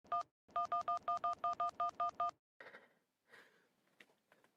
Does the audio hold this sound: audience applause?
no